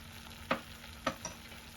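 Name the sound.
ghee added to frying rajma masala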